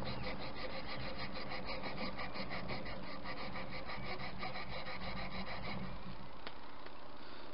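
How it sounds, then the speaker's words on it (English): Close, continuous rasping of abrasive mesh scrubbed back and forth over a surface in quick, even strokes, with a brief pause near the end. "I love this sanding mesh though."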